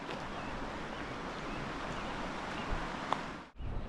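A river flowing beside a hiking path in Capitol Reef, a steady broadband rush of water with wind, continuous and fairly close until a brief dip near the end.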